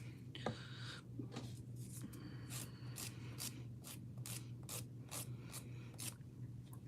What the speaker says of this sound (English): Let me just finish filing this down.